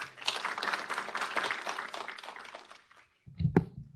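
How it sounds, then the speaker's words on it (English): Conference audience applauds its panelists at a session, a steady wash of many hands clapping for about three seconds before cutting off, followed by a brief knock. "One more round of applause for our panelists."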